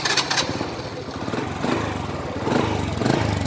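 An old two-stroke motorcycle engine runs close by after starting, a rough puttering idle with rapid even firing pulses that swell slightly in loudness.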